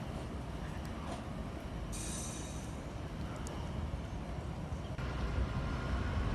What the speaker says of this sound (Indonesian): Lokomotif khusus berwarna merah merupakan penarik rangkaian gerbong kereta api yang melintas di jalur hulu di Pekalongan.